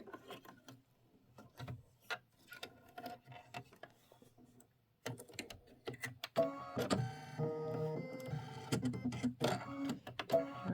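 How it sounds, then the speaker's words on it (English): A sewing machine stitches a small mini quilt block, starting in short bursts of needle clatter and then running into a busier, continuous mechanical rhythm, close and fairly quiet. "this is going to be 4 minutes of stitching"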